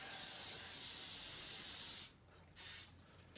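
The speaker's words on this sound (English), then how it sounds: "you're also going to spray your adhesive along the inside of your rail" Spray adhesive hisses from a can onto the inside of a rail in a 1974 Corvette rear compartment: a close, steady burst lasting about two seconds, a short pause, then a second brief spurt.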